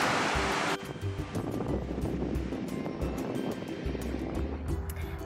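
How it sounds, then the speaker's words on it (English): Ocean waves wash onto a Miami beach in a continuous broad roar, loud and near, with wind buffeting the microphone. "Today I'll be working in Miami, so I've stopped by the beach to have some lunch."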